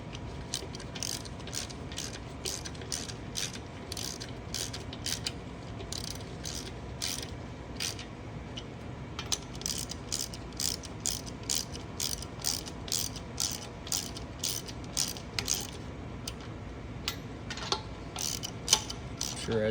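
Hand ratchet tightening bolts on a 9-bolt Camaro rear axle during reassembly, a steady run of rapid clicking strokes in repeated bursts, close and fairly quiet, with no talk.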